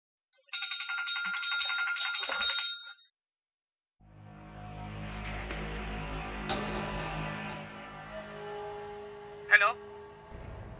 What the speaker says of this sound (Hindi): आप अपना फोन देख लें